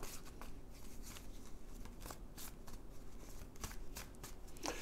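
A tarot deck being shuffled by hand, a run of soft, rapid riffling card flutters and slaps repeating close up at low volume, with no voice over it.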